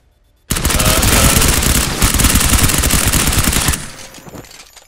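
A machine gun in a video game opens up suddenly after near silence and fires one loud, sustained, rapid burst for about three seconds, then cuts off, leaving a fading echo.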